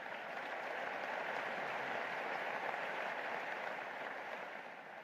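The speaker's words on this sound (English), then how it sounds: "It's like this clapping is going lower and lower and lower." An audience at a Lagos business breakfast session claps in a steady, dense wash of applause that runs unbroken and fades slightly at the end, heard at a low level from across the room.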